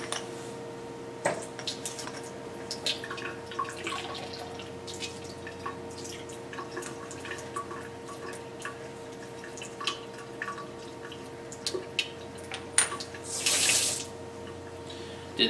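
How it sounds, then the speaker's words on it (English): Running tap water over a lab crucible and its cover, a steady faucet stream with drips and splashes, alone, moderately quiet, with a brief louder gush near the end. "we need to begin by cleaning a crucible and its cover with water."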